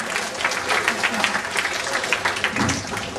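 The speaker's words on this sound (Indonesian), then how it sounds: "Kita tepuk tangan dulu dong untuk Robi Muhammad." Audience applause welcoming a speaker at an Indonesian talk on the science of social networks; uneven, pulsing clapping from a hall crowd, moderately close, with speech likely mixed in.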